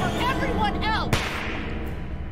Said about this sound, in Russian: Просто стрельнули.